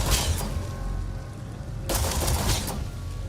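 Pistol gunfire in the video game Starfield, dense crackling bursts of shots, a loud flurry at the start and another around two seconds in, over a steady noisy background.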